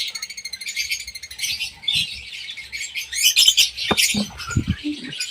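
A bird calls repeatedly with bright, high chirps and trills, fairly close and loud, with some clicks and handling noises mixed in.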